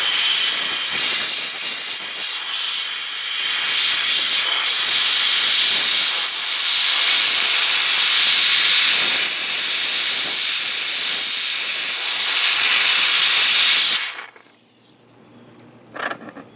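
An AutoRight C900054.M Wagner Spraytech SteamMachine steam cleaner blasts a steady, loud, close hiss of steam for about fourteen seconds, then cuts off abruptly into near silence with faint small clicks.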